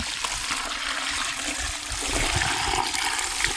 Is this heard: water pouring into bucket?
yes